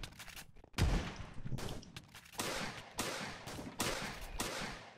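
Bursts of gunfire in a Minecraft World War One battle, a heavy shot near the start followed by repeated sharp volleys and crackling fire across the clip, with no talk.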